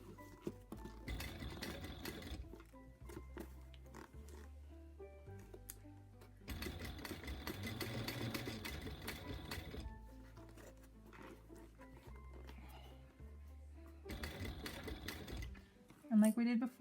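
A sewing machine stitches fabric in three bursts of rapid, steady whirring, separated by quiet pauses with a few small handling noises.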